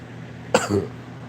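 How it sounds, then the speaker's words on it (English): A single sharp cough from someone lying in bed feeling unwell with a racing pulse, a short harsh burst followed by a brief throaty tail, close and fairly loud against a quiet room hum. "I cough."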